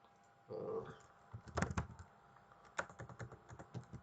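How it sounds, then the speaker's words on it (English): Keys of a computer keyboard being typed on at close range, a quick run of irregular clicks and taps with short pauses and no voices. "in the local just need to type localhost/PDF make and run your code"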